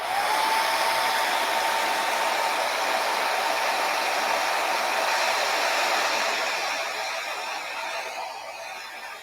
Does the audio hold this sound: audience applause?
no